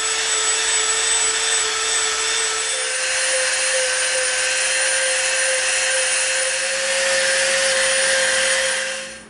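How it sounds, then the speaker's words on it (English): Dremel rotary tool rounding the edges of EVA foam, a loud steady high-pitched whine that holds one pitch and shifts slightly partway through, with no talk. "now we're going to come in with the Dremel and we're going to round out all these edges"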